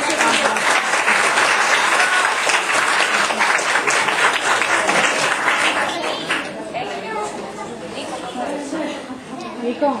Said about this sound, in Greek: Έλα να σε χειροκροτήσει ο Νίκος